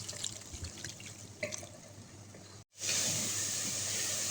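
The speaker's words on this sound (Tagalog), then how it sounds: "Lagyan na natin siya ng tubig." Water streams into a cooking pot of seasoned chicken for sinigang, a soft hissing pour that cuts out briefly, then resumes louder and brighter, close by.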